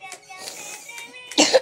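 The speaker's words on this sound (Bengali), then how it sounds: "কাশি কেন?" A child's short cough bursts up close in a home, the clearest one near the end, with faint voices around it.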